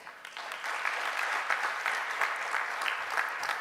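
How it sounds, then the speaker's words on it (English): Audience applause at the close of a formal financial stability conference, a steady dense patter of many hands clapping in a hall, moderately loud and sustained for a few seconds with no voices over it. "why don't we give them another big round of applause?"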